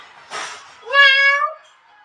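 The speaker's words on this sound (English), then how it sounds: "Oh, it's a kitty cat." A kitten-like cat gives a single clear, close meow, rising then falling, preceded by a brief soft rustle.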